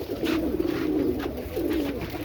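Pet teddy pigeons cooing in soft, repeated low throaty phrases, close by and fairly steady throughout, with no talking.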